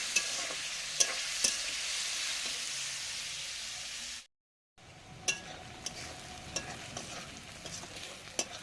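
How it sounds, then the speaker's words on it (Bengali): Onions frying in a pan while being stirred: constant close sizzling with repeated clinks and scrapes of a spoon against the pan, broken by a brief silent gap partway through, then quieter stirring. "পেঁয়াজগুলো ভালো করে কষিয়ে নিচ্ছি"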